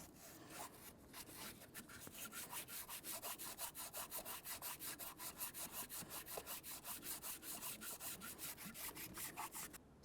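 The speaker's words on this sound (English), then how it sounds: "I also want to make sure that I sand down the exhaust where it's going to make connection" Steady back-and-forth sanding of a 2005-2010 Chevrolet Cobalt's metal exhaust with sandpaper on a sanding block, a fast rhythmic scratching that runs close and continuous with no voices.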